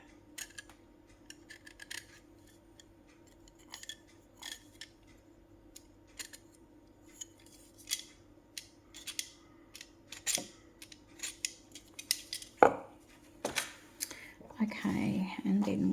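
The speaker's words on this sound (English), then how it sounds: "I will need to just nick that off with my trimmer" A small trimmer snips at a decoration on an eco resin coaster, giving a series of faint, close clicks and cuts, with quiet whispered talk in the background.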